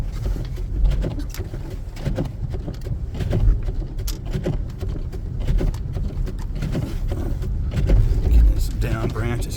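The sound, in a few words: 2014 Jeep Grand Cherokee driving over branches in blizzard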